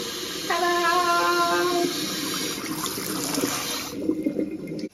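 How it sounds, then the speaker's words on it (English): Water pours steadily from a newly installed bathroom tap fitted with a flow-changing insert, a close, continuous rushing stream that carries on at an even level, with no talking over it. "so it changes the way the water comes out of the tap"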